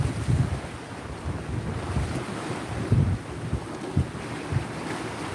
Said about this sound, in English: the water is really rough out here